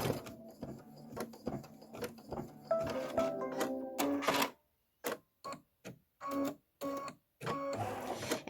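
A Kimberbell embroidery machine stitches a pillow's center fill, a rapid rhythmic mechanical chatter running steadily, then breaking into short repeated bursts with brief silences between them, loud and close.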